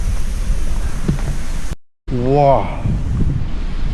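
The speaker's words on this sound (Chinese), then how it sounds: "风很大这里" Strong wind at a waterfall's source high in the mountains buffets the microphone with a rough, steady rumble; after a brief cut it continues while a voice exclaims loudly.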